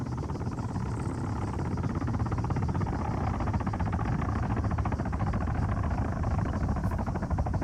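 A helicopter in the Arma 3 military game, a steady close rotor thrum with a continuous rumbling drone holding evenly throughout, no other sounds standing out.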